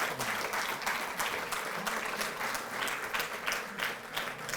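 Loud crowd applause rings out at a Delhi government ceremony honouring Tokyo Olympics athletes, rhythmic bursts of many hands clapping in waves that rise and fall.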